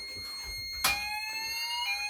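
A fire alarm sounder blares in a building during a system test, a steady electronic tone with a sharp burst partway through, fairly close and alone.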